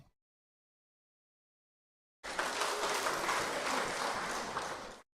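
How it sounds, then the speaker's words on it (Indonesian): Congregation applause inside a Toraja church in Jakarta during Sunday worship, after a vocal group choir win; a steady, dense wash of clapping starts abruptly after silence and holds for a few seconds before cutting off. "Tapi tepuk tangan tadi itu untuk Tuhan ya."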